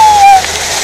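Cold water splashes and rushes inside a man-made grotto pool in the mountains, a close, loud, broad wash that starts over a short whistle-like tone and continues as a steady spray.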